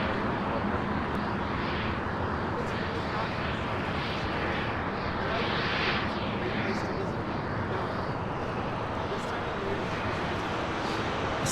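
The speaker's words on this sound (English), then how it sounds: "It's the DHL Coletta Air Flight 361 coming in from New York" Dense, continuous roar of a DHL Kalitta Air jet landing at LAX, a sustained engine rumble that stays loud throughout with faint voices beneath it.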